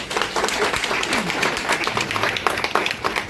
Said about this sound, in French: Donc vous devriez vous applaudir et l'applaudir,